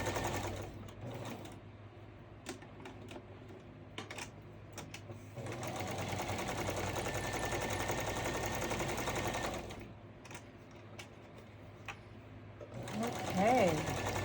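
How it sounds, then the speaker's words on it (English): A sewing machine stitches through glued junk journal pages in bursts of rapid mechanical whirring, close and steady, stopping and restarting over the span with a pause near the end. "I'm trying not to put glue around the outside for fear it's going to gum up my machine too much"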